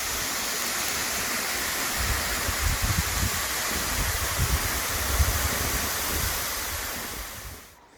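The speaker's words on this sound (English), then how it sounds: "Just another stunning waterfall you pass along the way." A waterfall on the Caldeirao Verde hiking trail in Madeira roars steadily, a dense, broad rush of falling water heard close and continuous, with slight wind buffeting, before fading out at the end.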